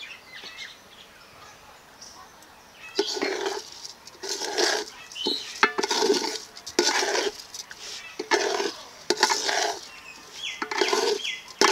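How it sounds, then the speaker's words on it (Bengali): A spoon stirs soaked pulao rice and lentils into spices in a pot, making bursts of scraping and clattering against the metal in an uneven rhythm, with a quieter stretch at the start. "চাল আর ডালটাকে মশলার সঙ্গে ভালো করে মিশিয়ে নিয়েছি।"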